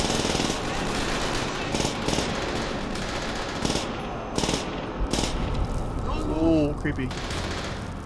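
Rapid automatic gunfire from the Call of Duty: World at War video game, loud and sustained with brief pauses and spikes of individual shots, mixed with game effects and a player talking.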